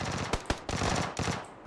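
Rapid automatic gunshots from the video game PUBG Battlegrounds, loud and close, fired in quick bursts with a few sharp separate cracks mixed in.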